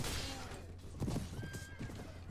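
A horse neighs and whinnies amid a mounted battle in the video game Prophecy of Pendor, with hoofbeats and clashing combat noise filling the background throughout.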